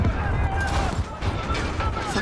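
Heavy gunfire and blasts from a grenade explosion in Call of Duty Modern Warfare, dense and continuous with overlapping bursts over about two seconds, voices faintly mixed beneath the combat.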